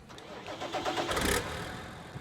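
A tractor engine starting in Farming Simulator 19, a brief cranking catch that swells into a mid-pitched running rumble and settles back, heard alone and fairly close.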